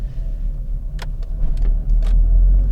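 A Peugeot car cruises along a main departmental road in Vendée at around 90 km/h, heard from inside as a steady low road rumble and tyre roar with a few faint clicks.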